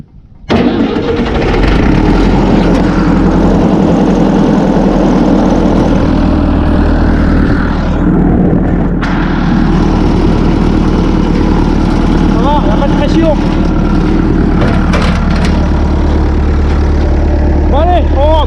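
A Massey Ferguson 865 tractor engine cranks and starts, then settles into a loud, steady diesel idle close by, with a brief dip partway through and a few knocks and squeaks near the end.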